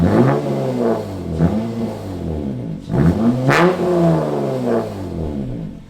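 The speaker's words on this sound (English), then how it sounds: "I'm going to have Jake turn my car on and give it a few revs" A 2008 Honda car engine revs several times up close, each rise in pitch swelling loudly and falling back to a rumbling idle.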